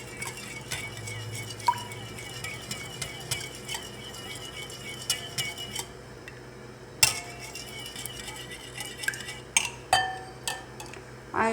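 Egg, milk and flour mixed in a bowl for egg paratha: a spoon clinks and scrapes against the bowl in quick uneven bursts, close and fairly quiet, with brief pauses between strokes.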